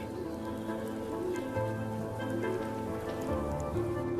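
Heavy rain pours down on flooded Venice during an acqua alta high tide, a steady, dense hiss that runs unbroken and fairly close for the whole stretch, with a faint tonal hum beneath it.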